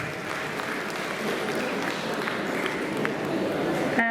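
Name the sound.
applause welcoming guests at the Khalsa College commerce fest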